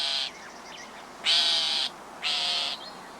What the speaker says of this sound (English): Much smaller in size, but every bit as aggressive as its larger cousins, is the northern shrike.